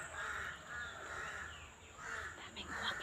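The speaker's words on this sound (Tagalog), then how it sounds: "Daming uwak" Crows caw several times outdoors in rainy, muddy surroundings, giving harsh, moderately distant calls in short bursts while a faint voice is heard underneath.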